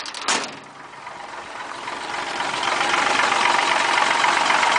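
A 1967 Ford 300 straight-six idles close up with a light valve rattle. The engine runs smooth and even, and its steady drone swells slightly louder over several seconds.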